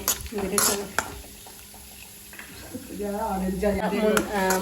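Cashews and raisins sautéed in ghee in a pan, with a spoon stirring and scraping in soft, irregular clinks and a faint sizzle, mostly under someone speaking Malayalam nearby.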